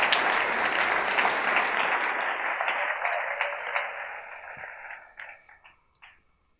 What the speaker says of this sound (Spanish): Dele un aplauso al Rey en esta hermosa mañana con todo su corazón.